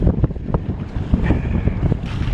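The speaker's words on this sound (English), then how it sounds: "We're getting a bit more wind now." Wind rushing loudly past the microphone on a Hobie sailboat at Lakes Entrance, blowing around 15 to 20 with short chop, steady gusty roar with slapping water throughout.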